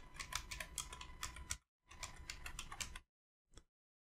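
Someone types on a computer keyboard in quick clattering runs of keystrokes, two bursts separated by a brief gap, then a final single key press after a pause.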